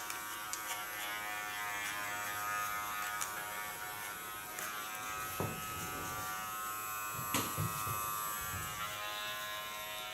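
Kiona hair clipper buzzing steadily while cutting moist hair on a man's head, a close, continuous electric hum with small shifts in pitch as the blades move through the hair.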